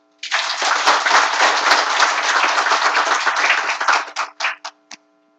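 An audience at a hospital stroke-center health lecture claps loudly and continuously for about four seconds, then the applause thins into a few scattered final claps before stopping.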